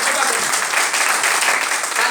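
Loud, dense applause from a seminar audience, a steady wash of many hands clapping that holds without letup for a couple of seconds.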